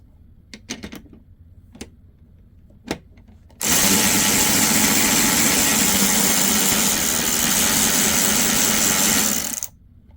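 Craftsman V20 cordless extended multi-size ratchet spinning in reverse: a few sharp clicks first, then a loud, steady motor whir that runs unbroken for about six seconds before stopping abruptly.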